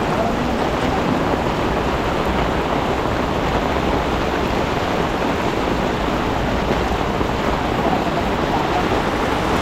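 Rising water rushes through a dam where people are fishing, a dense, steady roar of churning water that stays loud and unbroken, with no voices.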